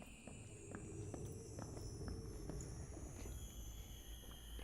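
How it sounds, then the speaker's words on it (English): Another player's footsteps in Dark and Darker, roaming the Goblin Caves. A steady run of faint, fairly even thuds goes on throughout over low rumbling ambience and high droning tones. "I hear those footsteps, and that might have been Sormur."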